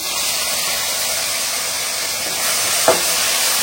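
Ginger-garlic paste hits a pan of well-sautéed onions and sends up a steady, close, loud sizzle with a hiss of steam, broken once by a short clink near the end.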